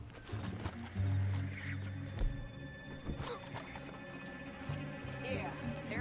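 Horses moving and snorting in Red Dead Redemption 2 near a canyon, hoof clatter and a brief whinny mixed with music and game sounds, moderately loud throughout.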